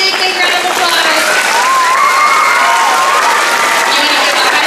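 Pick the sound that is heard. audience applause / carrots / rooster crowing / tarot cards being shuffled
audience applause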